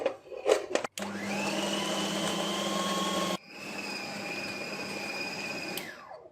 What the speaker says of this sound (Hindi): तो इसको हम पीस लेंगे।